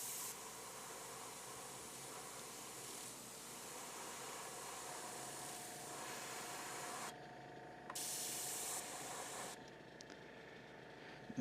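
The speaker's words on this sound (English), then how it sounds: "So I'm just trying to firm up the control mechanism of my airbrush." An airbrush spraying paint, a steady close hiss of air that runs on for several seconds, briefly cutting out and then returning stronger in short spurts.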